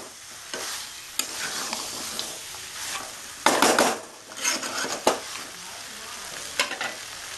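Mutton for a Bengali-style curry fries in very little oil, a steady close sizzle broken by repeated scraping stirs of a spoon against the pot.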